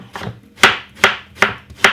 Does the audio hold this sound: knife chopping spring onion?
yes